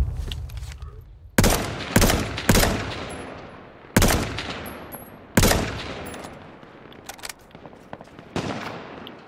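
Gunfire in the H1Z1 battle royale video game: several loud, sharp shots in bursts, each ringing out and decaying, spread unevenly across the stretch with a brief rapid cluster near the start.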